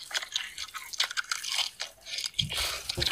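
Close, crisp crunching and chewing of fried chicken bones, with irregular bites and squishy mouth sounds in quick succession, ending in a heavier crunch.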